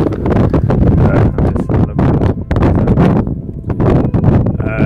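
Strong wind buffets the microphone in loud, irregular gusts, a roaring rumble with brief lulls between blasts.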